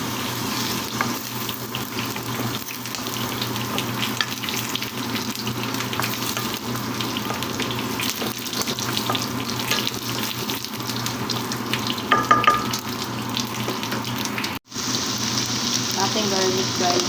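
Onion fries in a pan while a chicken dish is being cooked, giving a continuous hissing sizzle that holds steady for the whole stretch, with one short break near the end and no clear talking.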